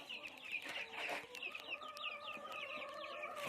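Chicks cluck and peep steadily at close range in a pen, a busy chorus of short calls with no talking.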